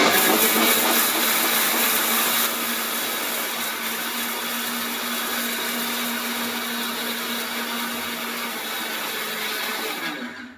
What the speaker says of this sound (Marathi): अजून एकदा आपण पूर्ण राऊंड मिक्सरला लावून घेऊया